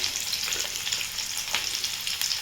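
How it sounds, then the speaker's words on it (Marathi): Onion, ginger and garlic fry in hot oil for matar paneer, giving a steady bright crackling sizzle with occasional small pops and a faint stirring scrape, close and continuous throughout. "अर्धा मिनटं कांदा तेलामध्ये फ्राय केला आहे त्याच्याबरोबर आपण लगेच आलं आणि लसूण देखील घालून घेणार आहोत"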